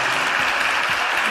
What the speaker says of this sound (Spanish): Ahora el aplauso en persona.